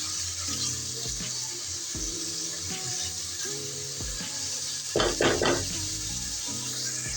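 Five or six finely chopped onions hit a hot pan for bhindi gosht, giving a steady close sizzle and frying hiss with a brief louder burst of spattering midway. No one speaks.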